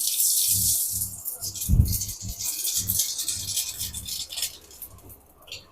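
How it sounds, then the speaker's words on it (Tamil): Mustard seeds sputter and crackle in hot oil as a tempering for sundal is started, a steady, close hissing fizz with scattered pops that eases toward the end. "இப்போ எண்ணெய் ஊற்றிக்கலாம் இப்போ கடுகு போட்டுக்கலாம்"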